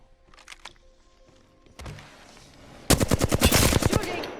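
Apex Legends gunfire: scattered shots and a mechanical clatter, then a close, loud rapid automatic burst of evenly spaced shots near the end, with no speech over it.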